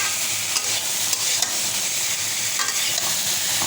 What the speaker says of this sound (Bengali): সময় নিয়ে নাড়তে হয় করলা ভাজিটা।